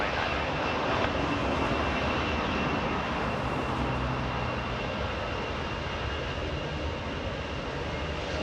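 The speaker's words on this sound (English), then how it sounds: "Speedbird 281, A777 landing south." A British Airways Boeing 777 airliner landing at Los Angeles International Airport, heard as a steady, loud, broadband jet engine roar that holds for the whole stretch with no voices over it.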